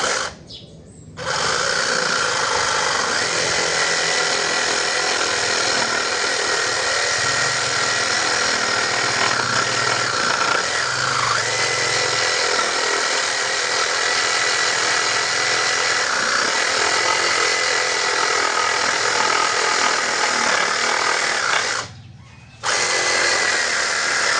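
A cordless reciprocating saw cuts wood, running steadily and loudly for about twenty seconds, with a brief pause near the end before it starts up again.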